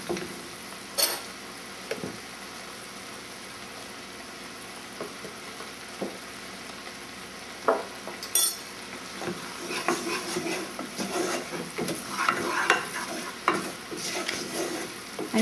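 Flour roux for a vegan white sauce being stirred and cooked in a pan: a soft low sizzle under intermittent scraping and tapping strokes of the utensil that grow busier and more continuous toward the end, close and moderate in level.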